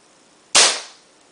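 A single sharp airsoft gun shot fired during an FPS test with a UAC or Guarder nozzle valve kit, close and loud, with a quick burst and a short fading tail.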